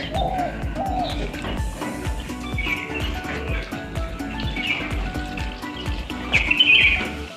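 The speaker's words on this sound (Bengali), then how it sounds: "পাখি ডাকছে কেমন" Birds calling from a tree, including doves, giving repeated chirps and short calls over a busy outdoor background of regular taps and clatter, with a louder burst of calling near the end.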